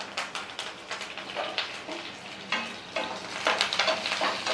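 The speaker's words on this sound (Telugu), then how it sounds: "కొద్దిగా కరివేపాకు వేసుకోవాలి" Curry leaves hit hot tempering oil with mustard seeds, crushed garlic and broken dried red chilies, giving a steady close sizzle broken by sharp crackling pops and bursts of spattering, with some stirring.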